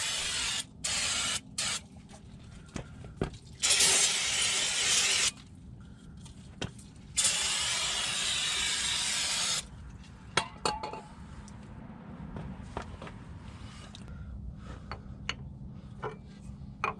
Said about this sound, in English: Gum out spray.